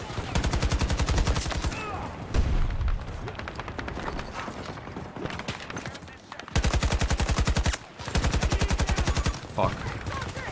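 Rapid full-auto bursts from an AK-24 rifle in a Battlefield match, close and loud, broken by short pauses between strings of shots, with faint talk mixed in.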